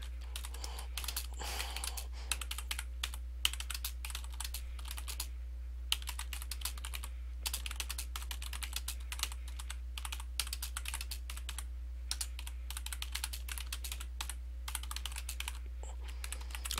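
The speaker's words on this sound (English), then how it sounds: "I would have typed my message, and I personalize it." Fingers tap steadily on a computer keyboard while typing a message, with close, crisp clicks in rapid bursts separated by short pauses and no talking.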